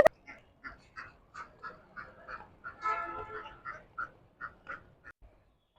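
Ducks quacking close by in a rural yard, a steady series of about a dozen short, nasal quacks in a loose rhythm with a brief louder cluster in the middle, fading out at the end.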